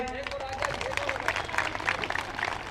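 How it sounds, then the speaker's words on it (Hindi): An audience claps for Anku at a crowded Buddhist gathering, a dense, continuous patter of many hands under a talking voice throughout. "अंकु के लिए ताली बजाएं।"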